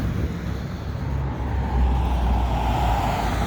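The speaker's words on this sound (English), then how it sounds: "And definitely a lot of trucks in this area." Night traffic on Côte-de-Liesse Boulevard in the Lachine/Dorval industrial area, a busy freight and cargo district full of trucks, forms a steady low rumble of passing engines and tires that swells slightly midway through, loud and continuous with no talking.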